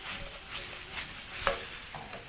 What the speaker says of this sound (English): Proceed to toss everything in the pan